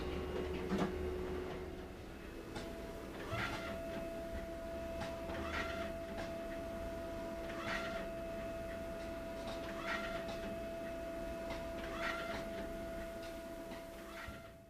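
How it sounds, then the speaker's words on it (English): An HP DesignJet 500/800 plotter prints and cuts a sheet, with regularly spaced carriage sweeps repeating every couple of seconds over a steady mechanical hum and whine. "the printer printed the pattern and it cut it off"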